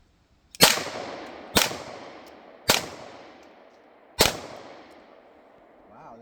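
Four sharp pistol shots from an LAPD duty handgun, the first in double action and the rest in single action, each a loud crack with a short ringing tail, spaced about a second apart at close range.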